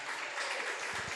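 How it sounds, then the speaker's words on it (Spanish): Dense applause from a church congregation during a sermon, a steady, even wash of many hands clapping at once, filling the room at moderate volume. "Dale ese fuerte aplauso al Señor"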